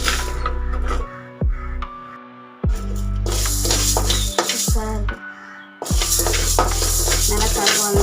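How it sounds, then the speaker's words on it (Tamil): Urad dal dry-roasts in a pan for sambar powder, the lentils rattling and scraping loudly in bursts as they are stirred, with short pauses between strokes. "அவசரமே தேவையில்லை, பொறுமையாக ஒன்று ஒன்றா சேர்த்து ஃப்ரை பண்ணலாம்"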